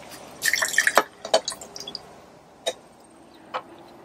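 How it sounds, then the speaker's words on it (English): Freshly squeezed lemon juice for lemonade dribbles into a glass in a few short, close splashes and drips, with scattered light clinks and quiet gaps between them. "And then I'll pour it in the glass."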